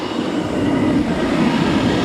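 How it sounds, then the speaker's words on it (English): A 6 horsepower shop vac utility vacuum runs steadily and loud, a constant broadband whooshing roar with no pauses for the full stretch. "this is obviously running the shop vac"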